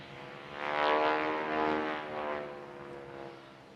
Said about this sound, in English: Hear the rasp from the propeller tips.